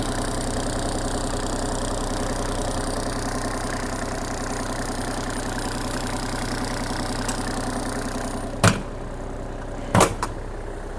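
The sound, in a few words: used Yanmar tractor engine running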